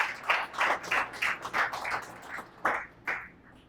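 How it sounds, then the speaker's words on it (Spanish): Scattered handclaps from a church congregation, faint and sparse, coming in uneven bursts, with a few louder claps near the end and no speech over them. "¿Por qué no le damos un aplauso a nuestro Señor por todas las cosas que ha hecho en el pasado"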